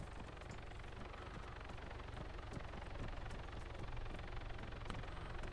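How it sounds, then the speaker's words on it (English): Helicopter flying overhead in Arma 3, a steady faint rotor thrum and engine drone with regular chopping pulses, distant and unchanging, heard alone. "Helicopter overhead somewhere."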